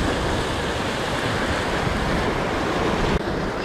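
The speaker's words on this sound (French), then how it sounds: "Il y a des vagues et tout" Sea waves wash against the shore at a bass-fishing spot, a continuous rushing surf roar mixed with gusting wind buffeting the microphone.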